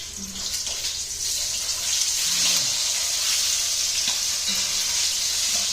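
Short ribs browning in a hot pan for braising, a steady close sizzle and frying crackle running throughout with a few brief clinks, no talk.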